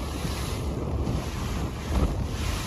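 Wind buffets the microphone out on a river during a rowing trip, a steady broadband rush with a low rumble and water noise, loud and unbroken throughout.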